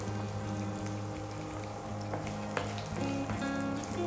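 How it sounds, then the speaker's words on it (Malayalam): Mustard seeds pop and sizzle in hot oil with curry leaves, shallots and crushed garlic for a Kerala beetroot thoran, a faint, steady frying hiss broken by small crackles. "നമ്മുടെ കടുക് പൊട്ടി വരുന്നുണ്ട്."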